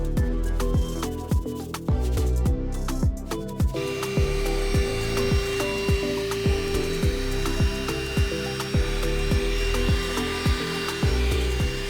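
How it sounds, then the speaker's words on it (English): Coarse sanding sponge rubbing over dried plaster on furniture in rapid, even back-and-forth strokes, steady and close, under a constant loud background hum, with no talking. "I took a coarse sanding sponge to knock off any of that super rough section before adding the next coat"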